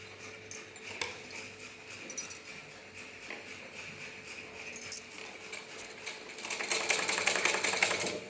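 A sewing machine runs stitches through pleated fabric, its steady motor whirr and needle clatter close and continuous, growing louder toward the end, with no voices.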